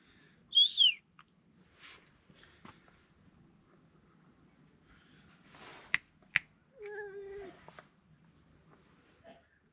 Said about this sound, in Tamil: பூனை பாருங்கள் எவ்வளோ ஒரு பெரிய பூனையாக இருக்குன்னு